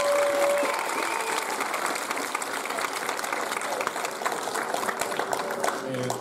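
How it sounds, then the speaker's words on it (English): An audience at a middle/high school end-of-year band concert applauds, a dense, steady wash of clapping that carries loudly and evenly for the whole stretch. "let's give them a round of applause for that"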